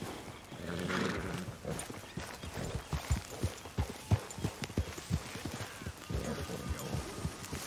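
Horse hooves clip-clopping in the video game Red Dead Redemption 2, a series of distinct hoof strikes in a loose rhythm over ambient outdoor noise, with a brief whinny-like sound early on.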